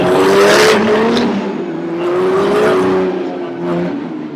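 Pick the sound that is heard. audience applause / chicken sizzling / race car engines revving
race car engines revving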